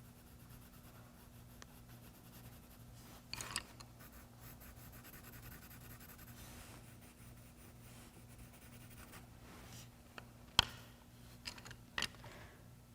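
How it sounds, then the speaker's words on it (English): The side of a colored pencil shades across paper in soft, continuous scratchy strokes, faint and close, with a few sharper taps and scrapes scattered through. "you can use the side of your colored pencil instead of the tip"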